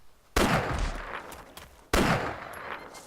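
Two loud, close shotgun blasts in the survival game DayZ, each a sharp crack followed by a long echoing decay, spaced about a second and a half apart.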